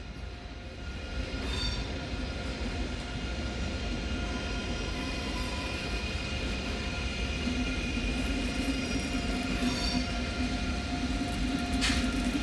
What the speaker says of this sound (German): Einfahrt des ICE